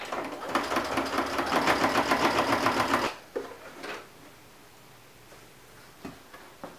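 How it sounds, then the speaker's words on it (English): A sewing machine top-stitches a boxy zipper pouch at a 3.5 stitch length, a steady loud rapid mechanical whir and tick for about three seconds, then stopping, followed by faint handling clicks and near silence. "Alright, stitch away."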